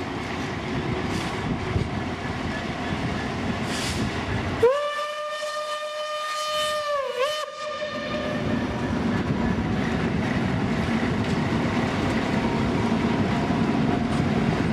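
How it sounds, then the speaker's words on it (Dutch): A Dutch heritage train hauled by two diesel locomotives rolls past loudly with a steady rumble and wheel clatter, broken by a long, loud multi-tone horn blast in the middle. "En dan volgen de beide diesels."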